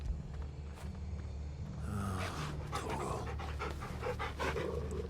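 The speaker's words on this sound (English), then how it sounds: "I'll pet the dog." A dog in the video game Final Fantasy XVI pants steadily and close by in quick breathy bursts. Soft game ambience sits underneath.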